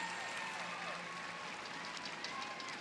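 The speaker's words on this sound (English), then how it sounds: "the roar of the crowd for the 4-time Canadian champion" A large arena crowd at a national figure skating championship roars and applauds for a skater, a dense, sustained wash of cheering and clapping with a commentator talking over it.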